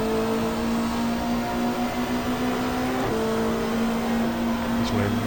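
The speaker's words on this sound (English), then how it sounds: "So we're mauling the back now of O'Brien's BMW New Zealand entry" Mid-1990s Super Touring race cars, including a BMW, drive through a chicane on the Gold Coast street circuit, their engines making a steady, high, buzzing drone that shifts pitch briefly as they brake and accelerate.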